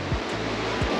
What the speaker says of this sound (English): The waves are calmer over here now.